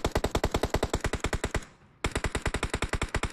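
Rapid machine-gun bursts in BGMI, loud and close: a long burst of evenly spaced shots, a short pause, then another fast burst.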